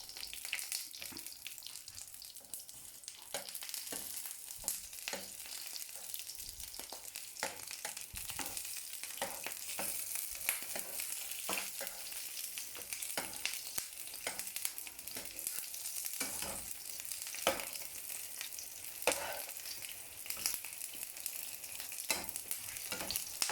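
Eggplant fries for breakfast in a pan with a steady close sizzle, broken by frequent sharp clinks and scrapes of stirring.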